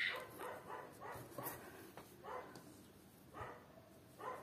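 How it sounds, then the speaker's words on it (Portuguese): A neighbour's dogs bark in repeated bursts, several sharp woofs and yips spaced about a second apart, somewhat distant and fairly quiet, with no talking over them. "eu sei que tem muito barulho de cachorro"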